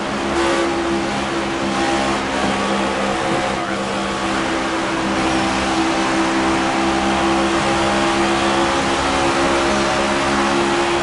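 A car engine revs outside in the video game Rainbow Six Vegas, a loud, continuous roar of motor noise with steady engine tones held throughout.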